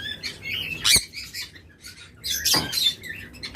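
Pet birds kept for sale at a bird seller chirp in two quick bursts of high, bright tweets, close by with quieter gaps between.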